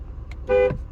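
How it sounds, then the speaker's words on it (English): A 2004 Ford F-150 pickup truck horn gives one short, loud honk, close by, against a low idling rumble. "I'm gonna honk this horn real quick"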